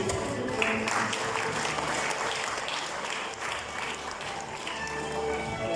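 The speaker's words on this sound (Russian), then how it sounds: "давайте громкими аплодисментами встретим наших достойных земляков" Sustained audience applause at a regional fellowship ceremony honouring countrymen, dense steady clapping from a crowd filling the room at an even level throughout.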